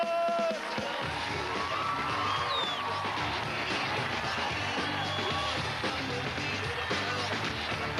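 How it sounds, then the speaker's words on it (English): A large live-show audience at a magic performance roars with sustained cheering, whoops and shouts, a dense continuous crowd din that holds steady and loud throughout. "Give him a big round of applause."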